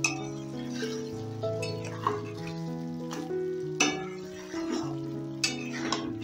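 Green chicken being stirred and sautéed in a pan, with a steady sizzle, a few spoon clinks against the pan, and tuneful background music running throughout.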